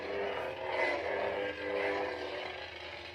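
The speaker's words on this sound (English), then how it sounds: "So it's got like a little bit of like a burning sound effect. Like it's cutting through something." A Darth Vader lightsaber toy plays its machine ignition sound effect, a steady loud buzzing, burning hum with slight rising and falling swells, heard close and alone.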